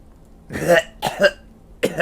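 A person coughs several times in close, harsh bursts: one long cough, a quick double cough, then another starting just after.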